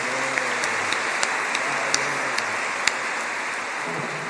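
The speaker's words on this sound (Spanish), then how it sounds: "Démosles en comunidad un aplauso de felicitación." A church congregation at Sunday Mass applauds in congratulation for members' birthdays, a steady rain-like wash of many hands clapping, with a few sharper individual claps standing out.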